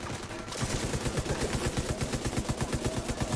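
Sustained rapid automatic gunfire in The Division 2 video game, a loud steady stream of rounds in an even rhythm starting after a half-second lead-in of noise.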